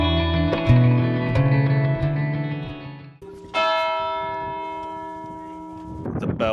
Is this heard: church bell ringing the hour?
yes